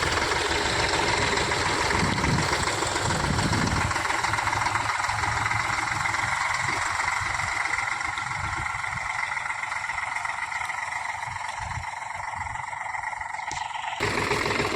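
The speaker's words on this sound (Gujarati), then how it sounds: "આપણું ટ્રેક્ટર હાલી રહ્યું છે અત્યારે વાડીમાં." A tractor engine runs steadily on a farm field, a continuous mid-pitched rumble with a knocking throb that stays loud and close for most of the stretch before cutting off near the end.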